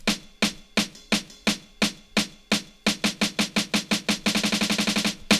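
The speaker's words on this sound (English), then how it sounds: "So I'm going to introduce some of these drum sounds beforehand." Punchy drum hits in a melodic drum and bass build-up, starting as spaced kicks and snares and tightening into a rapid accelerating snare roll, loud and dry.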